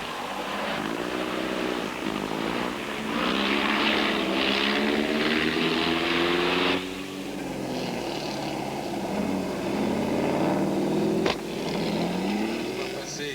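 A bunched group of vintage Bentley competition racing cars roars past the pits at a historic Grand Prix de l'Age d'Or race in 1990, loud sustained engine noise with a commentator talking over it.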